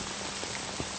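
Steady rain falls through the night, a dense broadband hiss with a few louder drops and patters standing out, continuous and fairly close.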